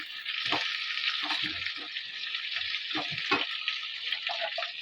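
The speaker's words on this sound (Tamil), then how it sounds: "இப்போ இதில் ஆனியன் ஆட் பண்ணியிருக்கேன் ஆனியன் கொஞ்சம் ஃப்ரை ஆகணும்னா" Chopped onions fry in a hot pan for soya manchurian, a steady broadband sizzle running throughout with several low scraping stir strokes, close and fairly loud, no talking.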